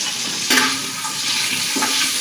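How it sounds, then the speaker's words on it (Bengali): Eggs frying with spices in a pan, a continuous bright sizzle with a few louder bursts as the pan is stirred or scraped. "হলুদ নাই, আমরা মশলা দিয়ে ডিম রান্না করতেছি।"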